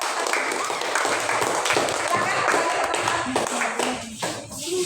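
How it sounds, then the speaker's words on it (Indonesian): A classroom of students claps hands together in a lively, uneven burst that thins out toward the end, with some chatter underneath. "bagus sekali, kasih tepuk tangan"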